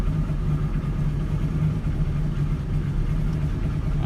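A truck engine idles steadily and slightly lean after a cold start, a close, continuous low rumble with even pulsing and no revving.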